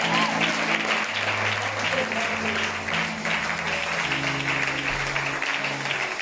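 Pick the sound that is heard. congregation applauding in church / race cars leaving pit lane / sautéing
congregation applauding in church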